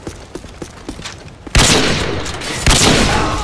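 Gunfire in Call of Duty Modern Warfare 2 begins with light, quick clicking and tapping, then breaks into two loud, sustained blasts of shooting that dominate the mix, with no talk.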